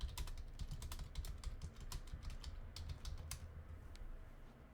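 Rapid, close keystrokes rattle on a computer keyboard in quick, uneven bursts, then thin out to a few scattered taps near the end, with no voices.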